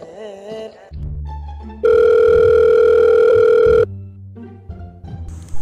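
A loud, steady telephone dial tone holds for about two seconds, framed by background music before and after, with no talking over it.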